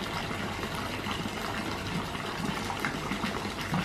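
Water spouting from small statues into a pool in a Bali hotel garden, a steady continuous splashing and gushing that stays close and fairly even throughout, with no voices.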